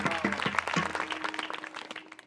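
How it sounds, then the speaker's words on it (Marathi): Audience applause at a devotional kirtan gathering, a steady burst of many hands clapping that gradually thins and fades. "एकदा त्यांच्यासाठी जोरदार टाळ्या वाजवा"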